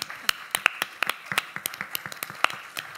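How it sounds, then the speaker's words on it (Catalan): Audience applause at a poetry translation slam and recital in Barcelona: a thin scatter of individual claps at an uneven rhythm, close and moderately loud, with no voices over it. "Un fort aplaudiment també."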